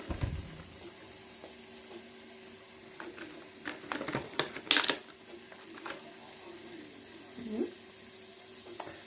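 Chorizo and bacon drop into a hot pan and begin frying, with a low steady sizzle under scattered scraping and stirring clatter, a louder burst midway as the meat goes in, close and moderately loud, no talking.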